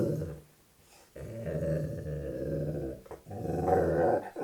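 A dog named Flitzy gives a low, sustained growl close by, rumbling on for a few seconds with brief breaks and a rising edge near the end, with no talking.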